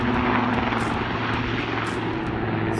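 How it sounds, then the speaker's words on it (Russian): A helicopter lifts off at a distance, its steady whirring rotor and engine drone filling the air evenly throughout. "Взлетает вертолет."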